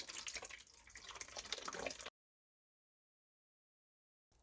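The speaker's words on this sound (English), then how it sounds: "Start out with 1 liter of water." One liter of water is poured for homemade insecticidal soap against spider mites, a soft steady splashing stream lasting about two seconds before cutting to silence.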